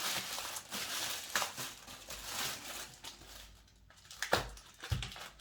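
A tape-wrapped package holding a double-walled glass is torn open, with crinkling, crumpling and sharp tearing bursts, quiet and close.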